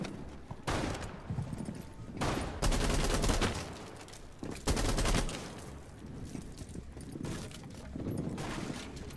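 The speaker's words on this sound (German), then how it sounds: "ich schieß gerade die Wand auf ein bisschen, damit ich durchschießen kann" Bursts of rapid gunfire in Rainbow Six Siege, shooting through a wall to open it up: several loud, close volleys of automatic fire separated by short pauses, with faint talk underneath.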